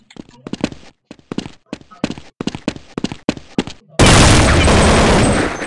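Counter Strike 1.6 gunfire on the Dust 2 map: a series of sharp, close shots in quick bursts, then a loud sustained burst of dense, roaring noise at the end.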